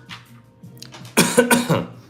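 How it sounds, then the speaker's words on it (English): A person coughs a few times in quick succession, close and fairly loud, with some throat-clearing mixed in. "why am I coughing?"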